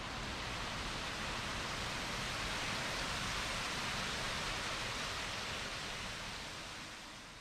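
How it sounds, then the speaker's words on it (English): Water pouring over a canal lock sill in Chester, England, a steady, dense rushing roar heard from close by, unbroken for several seconds and fading slightly at the end. "You can even hear where the waterfall is."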